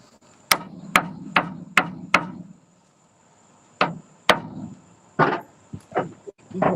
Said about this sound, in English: The trusty ball peen.